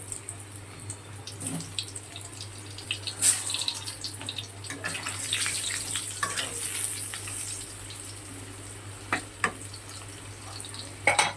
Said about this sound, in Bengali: এবার আমি আলুগুলোকেও সুন্দর করে লাল লাল করে ভেজে নেব